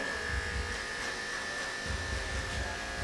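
Electric hair clippers buzz steadily as they cut the perimeter line of a bald fade, a constant close-up motor hum at moderate level with no talking.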